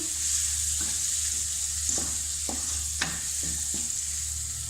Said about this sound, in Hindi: 1 मिनट मिसालों को हम भूनेंगे ताकि मिसालों का कच्चापन जो है वो ख़त्म हो जाए